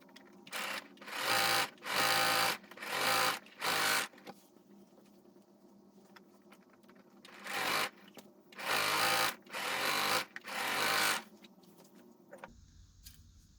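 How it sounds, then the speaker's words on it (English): Several bursts of a sewing machine stitching skirt fabric panels in short stretches, whirring loudly with pauses between, nearby; a brief different hum at the end. "Let's go to our sewing machine now."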